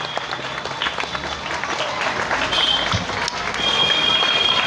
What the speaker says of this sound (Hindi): तालियों की गड़गड़ाहट चलती रहे।